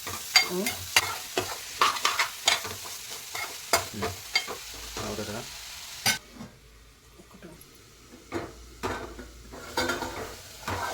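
Snake gourd pieces are tossed with a ladle in an oiled pan, giving a quick run of sharp scraping strokes over a steady sizzle, then a quieter stretch with a few final clinks.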